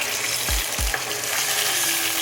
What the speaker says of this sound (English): Now I'm just going to add the remaining coconut cream.